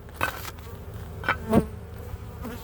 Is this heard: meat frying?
no